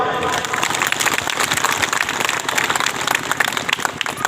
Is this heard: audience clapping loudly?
yes